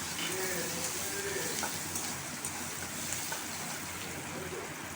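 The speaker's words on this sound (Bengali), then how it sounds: "তাই এর মধ্যে সেই কোচানো পেঁয়াজটা দিয়ে দিলাম। দিয়ে খানিকক্ষণ নাড়তে হবে ভাজা পর্যন্ত, হাফ ভাজা করে নেব।" Chopped onion frying in oil in a wok gives a steady, even sizzle that holds at a moderate level for the whole stretch, with no distinct pops standing out.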